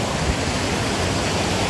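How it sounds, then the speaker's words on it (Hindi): Water pours over rocks at an eco tourism park in Karbi Anglong, a loud, continuous, close rushing roar with no break or voices. "पूरा पत्थर के ऊपर में पानी गिर के आता है गाइस।"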